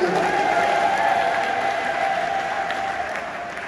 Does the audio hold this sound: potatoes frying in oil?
no